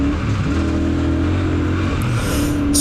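A 2023 Royal Enfield Super Meteor 650 twin-cylinder motorcycle pulls harder to overtake, its engine droning steadily with rising pitch beneath strong wind rush, loud and close throughout.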